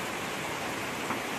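Rain falls steadily in a brief, even wash of hissing patter with no other sounds or voices.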